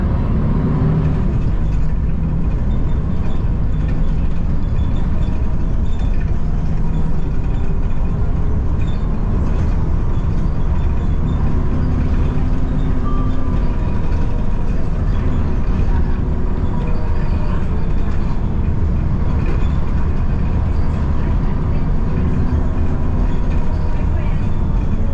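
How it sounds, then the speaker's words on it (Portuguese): An EMTU trolleybus rolls along a dedicated bus corridor in São Paulo, producing a loud, continuous low rumble with rattling and road noise throughout, heard from inside the vehicle. "esse ônibus anda no corredor de ônibus especial, só de ônibus"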